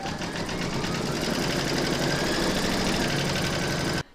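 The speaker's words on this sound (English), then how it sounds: "Pop your hoop back into your machine and stitch round number five, and that's going to secure your backing fabric." An embroidery machine stitches a round of a baby feet appliqué design on fabric in the hoop, a steady, continuous mechanical whirr with a rapid needle rhythm that runs without a break, then stops abruptly near the end.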